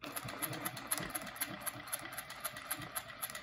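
A sewing machine stitching with a quilting ruler, its needle hammering in a fast, even rhythm of sharp ticks over a low motor hum, close and steady throughout with no voice.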